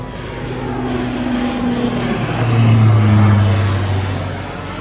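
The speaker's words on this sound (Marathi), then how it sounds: "जेट, प्रायव्हेट जेट आहे. खूप जवळून दिसतंय." A private jet flies close overhead at a rest area near Yellowstone National Park, a loud, steady engine roar that swells toward the middle and then slowly fades, with no talk over it.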